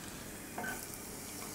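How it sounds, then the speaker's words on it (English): Garlic sizzles in hot oil in a frying pan, a faint, steady crackling hiss with a brief stirring scrape partway through, no voices. "It's beginning to sizzle."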